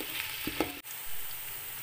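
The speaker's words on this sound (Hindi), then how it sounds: "प्याज को हम लाइट ब्राउन जब हो जाएगी तो हम इसे आधी निकाल लेंगे" Onions frying in a pot for pulao until light brown, a steady close sizzle with a few soft stirring clatters and a brief dip partway through.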